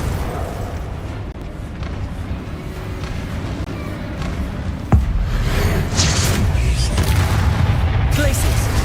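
Spell explosions of Bombarda and Confringo in Hogwarts Legacy, a sharp blast near the middle followed by a sustained rumbling wash of effects over continuous game noise.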